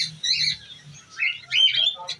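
Breeder pairs of pet birds in a bird shop at Islamabad's Itwar Bazaar chirp and squawk close by, with overlapping bursts of shrill calls rising and falling over the whole stretch.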